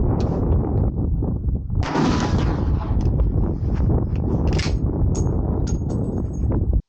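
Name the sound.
rifle shot fired from Remington 760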